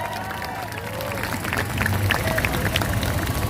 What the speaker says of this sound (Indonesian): Tepuk tangan untuk kawan-kawan kita yang berani memasang